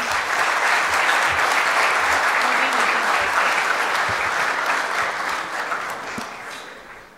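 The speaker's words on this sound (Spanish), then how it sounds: "Un aplauso, por favor" Steady applause from a conference audience after an engineering talk, a dense even wash of claps that fades gently toward the end, with no talk over it.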